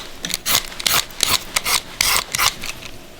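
A mango is peeled close up in a rapid run of crisp scraping strokes, each one a short rasping burst of knife or peeler on skin, loud and steady with no talking.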